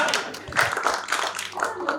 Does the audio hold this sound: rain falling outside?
no